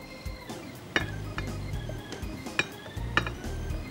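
Chicken macaroni poured into an oiled dish, heard as a few light clinks and knocks of a utensil on cookware plus soft scraping, close up and fairly quiet.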